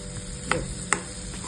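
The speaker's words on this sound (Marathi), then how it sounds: "तर हलवून बघायची, चेक करून घ्यायची कधी झालं की नाही." A spoon stirs fresh green-pea matar bhaji in a pan, giving two sharp metallic clinks against a quiet background of soft cooking noise.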